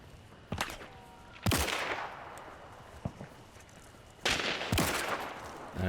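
Vetterli Cyclone rifle shots in Hunt: Showdown: four loud, sharp reports spaced unevenly, two close pairs each trailing into a long reverberant decay, with no talk.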